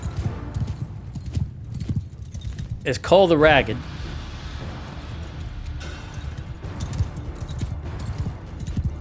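Horse archers' hooves pound in a Mount & Blade II Bannerlord battle, a busy clip-clop of many horses in the mid-distance, with a neigh rising above them and someone talking over the noise.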